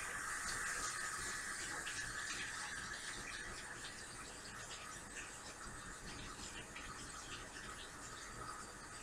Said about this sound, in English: I will rinse my hands off